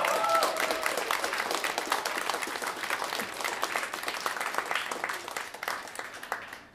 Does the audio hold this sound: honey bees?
no